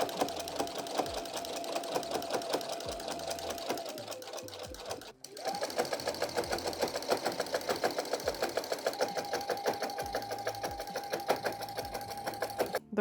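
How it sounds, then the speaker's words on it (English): A sewing machine stitches a minky blanket, running in a fast steady mechanical chatter with a rhythmic whirring hum, pausing briefly once before resuming at the same pace, close and loud with no talk. "You want to turn the fabric as you're going, especially if your machine doesn't have like a table."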